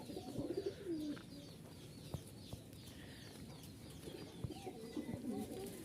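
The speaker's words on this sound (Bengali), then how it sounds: "এগুলো হচ্ছে রাজশাহীর খুব ভালো মানের কবুতর" High-flying Rajshahi pigeons coo softly and steadily in a quiet setting, with a few faint clucks and small knocks nearby.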